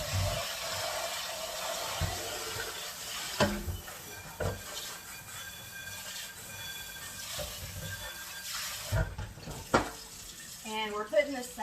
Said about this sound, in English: So I'm going to rinse it out real quickly.